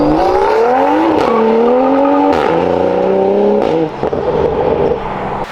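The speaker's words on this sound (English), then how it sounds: "we'll throw in an exhaust clip." A modified 2023 BMW M340i (G20) exhaust revs loudly, its pitch climbing and dropping in several surges, close by with no talking.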